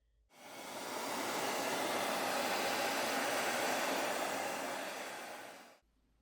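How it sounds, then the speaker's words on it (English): A hair dryer blows steadily for about five seconds, heating the vegan leather back plate of a Motorola Moto G86 Power 5G to loosen its adhesive, a loud even whoosh that starts and stops cleanly with no talking. "I prefer to use a hairdryer since there's less of a chance of damaging any of the components inside by overheating them"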